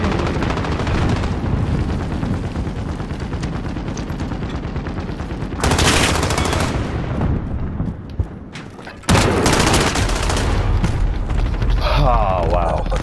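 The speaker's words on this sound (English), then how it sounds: "He's shooting at me." Rapid gunfire in Call of Duty: Modern Warfare, dense bursts of automatic shots rattling continuously and loudly, broken by short pauses and a sudden louder volley.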